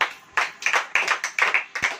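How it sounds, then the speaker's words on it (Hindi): Clapping from a congregation at a church service comes in sharp, uneven bursts of hand claps, close and fairly loud, with brief pauses between clusters. "और इस बात के लिए ताली बजाइए"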